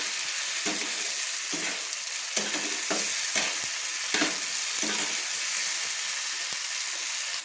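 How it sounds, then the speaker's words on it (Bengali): A large tomato sautés in hot oil in a pan for an aloo chingri curry, producing a loud, continuous sizzle with repeated stirring scrapes close by. "একটা বড় সাইজের টমেটো আমি দিয়ে ভালো করে কষিয়ে নিচ্ছি"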